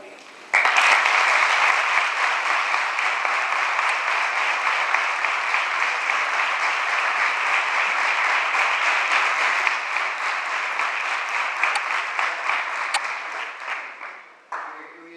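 Sustained audience applause at an electoral debate, a loud, dense wall of clapping that holds steady for about fourteen seconds before tapering off.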